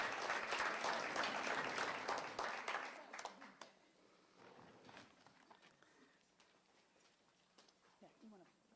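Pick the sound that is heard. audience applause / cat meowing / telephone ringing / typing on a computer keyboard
audience applause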